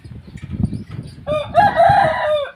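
A rooster in a rural Thai village lets out a single loud, drawn-out crow, starting with a few rough clucks and rising into a strained, harmonic call that trails off near the end.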